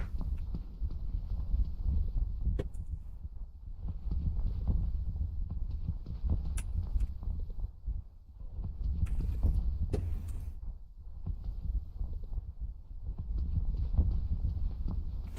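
Heavy, hard-soled footsteps in The Complex Expedition, a Backrooms horror game, thudding steadily and loudly in a near-continuous clip-clop rhythm with a couple of brief pauses, no talk over them.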